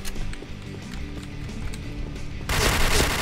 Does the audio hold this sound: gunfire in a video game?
yes